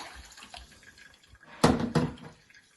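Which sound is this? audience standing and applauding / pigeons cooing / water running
water running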